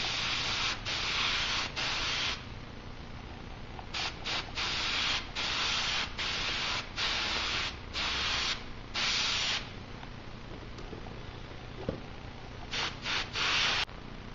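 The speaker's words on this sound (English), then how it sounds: "instead of painting with a brush, I'm going to use my airbrush" An airbrush sprays dark paint onto a foam helmet in repeated short hissing bursts of one to two seconds, loud and close, separated by quiet gaps and with no talking.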